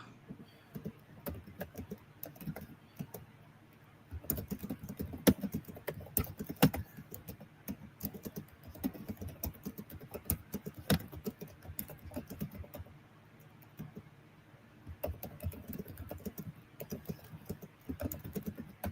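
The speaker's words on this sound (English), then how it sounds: "I was typing a note to Carla." Rapid, uneven clicking of fingers typing on a computer keyboard, close and fairly quiet, with bursts of keystrokes separated by short pauses and no speech over it.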